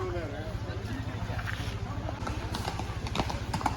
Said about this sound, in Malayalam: കുതിര അതാ പോയിക്കൊണ്ടിരിക്കുകയാണ്